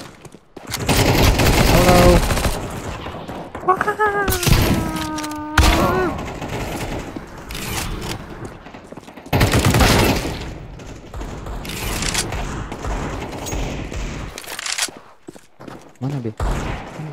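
Repeated bursts of gunfire in a Counter-Strike 2 deathmatch on the Dust 2 map, loud and close, come in clusters across the clip, with someone talking between and over the shots.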